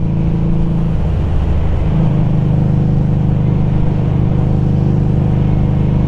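A motorcycle with a six-speed transmission riding on a road in low gears, heard from the rider's full-face helmet: a loud, steady engine drone with rumbling wind noise throughout.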